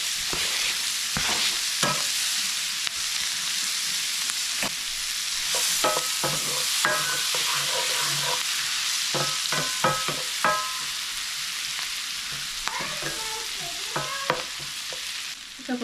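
Onions sizzle in a mix of butter and garlic oil, giving a continuous close frying hiss broken by frequent spoon-and-pan stirring clatter and scrapes over about sixteen seconds.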